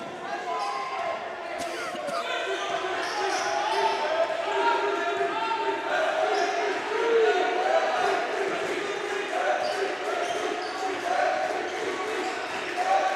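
A home crowd roars at a high school varsity basketball game between the Owensville Dutchmen and Vienna Eagles, a steady swelling crowd noise with sharp ball bounces and squeaks mixed in. A commentator talks over it.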